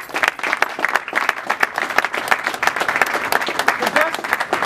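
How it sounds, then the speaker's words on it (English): A crowd at a real estate gathering in Philadelphia claps loudly and continuously, dense applause with scattered cheers filling the whole moment. "I want everybody to give a round of applause for all of ourselves for coming out."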